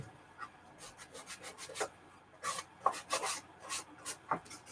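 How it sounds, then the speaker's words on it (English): Sanding a Little Golden Book cover for a junk journal, with irregular short rasping rubs in uneven bursts, close up and fairly quiet, some strokes quicker and sharper than others. "I'm also going to sand down this part right here"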